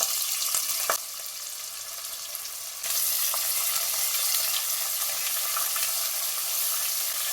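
Thinly sliced onions fry in hot oil with cumin, a bay leaf and curry leaves, making a loud, dense, continuous sizzle that swells louder partway through, with a couple of faint stirring clicks early on.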